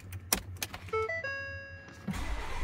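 Inside a Ford F-150 truck with a blind spot system fault, a few clicks come first, then a series of electronic chimes and tones. The engine cranks and catches near the end, all fairly quiet.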